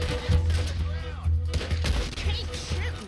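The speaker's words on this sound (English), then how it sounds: "Keep shooting." Gunfire in the Western video game Red Dead Redemption, a rapid run of loud shots with bursts close together over a dense, busy game soundscape.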